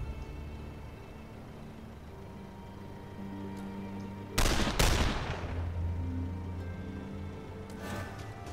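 Dual pistols fire in The Lamplighter League, a broadband burst of rapid shots lasting under a second over steady game music, with a fainter crackle of shots trailing near the end.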